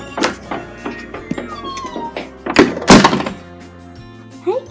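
A house cat meows indoors at night, with a few short calls over soft household thunks, a door knock and a brief rising cry near the end, close to the microphone.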